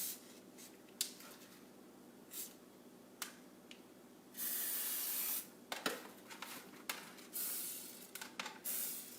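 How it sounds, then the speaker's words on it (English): Short hissing bursts of cooking spray hit a pan, several quick spritzes followed by longer sprays, close and fairly quiet. "It says to spray the whole pan, and that's what I'm doing."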